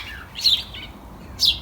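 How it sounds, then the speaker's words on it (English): A small bird in a garden gives two short, high chirps about a second apart, fairly faint over a soft outdoor hum, with no voices. "There's a little bird singing to us there."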